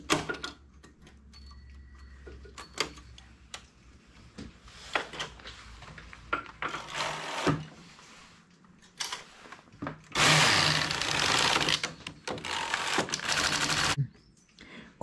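Knitting machine carriage pushed across the needle bed, a series of close clicks and ticks building to a loud sustained rasping sweep near the end, then a sudden stop.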